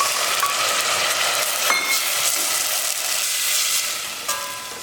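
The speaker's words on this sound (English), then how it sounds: "Add on the tomatoes." Tomatoes sizzle and fry in a pan while being stirred, a steady close crackling hiss with occasional scraping clicks of the utensil, no voices.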